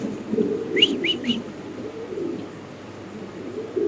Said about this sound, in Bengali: জাস্ট খালি কবুতরের ডাকটা দেখেন ভাই, কোয়ালিটি দেখেন